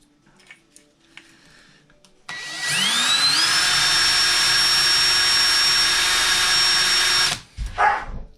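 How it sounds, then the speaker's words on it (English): A power drill bores a hole for a homemade western salt spreader controller, whining up to speed with a rising pitch, then holding a loud steady high whine for about five seconds before stopping abruptly. "So let me go ahead and drill that."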